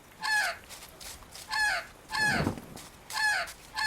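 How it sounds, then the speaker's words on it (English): An animated film bird clucks and crows in four loud, rhythmic bursts, close and alone with no talk, with a rougher squawk in the middle. "It's a bird for sure. And it's heading this way!"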